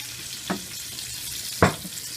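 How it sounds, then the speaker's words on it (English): Corn sauteing in a little olive oil gives a soft, quiet sizzle, broken by two brief stirring knocks. "now we're going on to corn. Gonna saute it in a little bit of olive oil"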